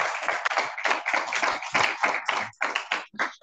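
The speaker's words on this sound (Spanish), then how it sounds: "Denle un aplauso a él, un gran servidor" Scattered clapping from a church congregation, a few dozen hands in a quick irregular patter that sounds close and fairly steady, fading toward the end.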